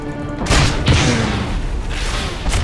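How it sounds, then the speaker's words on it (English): A regular grenade goes off in the video game Tribes Ascend, giving a loud, booming blast, followed by a second heavy thump and a rumbling tail of game-combat noise. "Throw a regular grenade."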